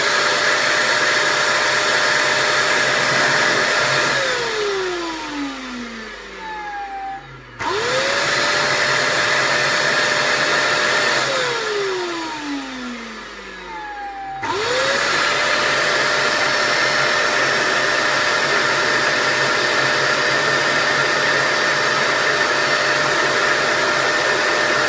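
Dyson DC24 upright vacuum cleaner with a brush bar that isn't turning, switched on with a loud steady whine that winds down and starts up again twice, near and alone.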